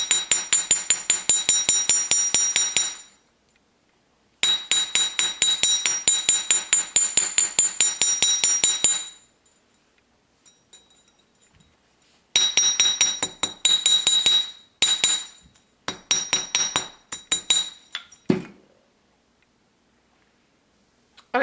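Repeated hammer blows flatten a wire pendant from the back side, sharp metallic taps in fast rhythmic bursts separated by short pauses, close and loud, with a few scattered clinks near the end.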